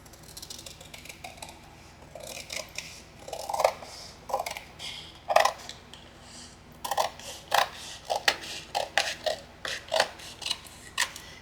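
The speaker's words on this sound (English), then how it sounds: "all I'll need to do is take my scissors and trim" Scissors trimming paper along the edge of a composition book, a series of short crisp snips and slicing strokes in irregular bursts, close and fairly quiet, with no talking.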